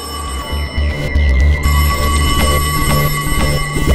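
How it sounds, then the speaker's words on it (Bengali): A telephone rings in a clear, repeated electronic ringing pattern, loud and close, with tonal bursts recurring throughout. "ওহো, আবার ফোন।"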